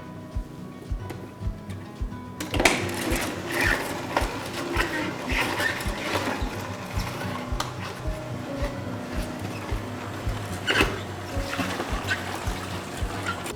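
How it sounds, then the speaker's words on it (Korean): A kitchen juicer grinds ginger, garlic and onion for kimchi noodle broth, a steady motor hum with rhythmic knocking and crunching pulses throughout, starting quieter before the machine fully engages. "생강하고 마늘하고 양파도 다 함께 넣어서 즙을 내주세요"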